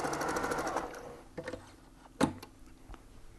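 A sewing machine runs a short straight seam across quilt pieces, a close, rapid whirring burst that stops after about a second, followed by a few quiet clicks and handling knocks.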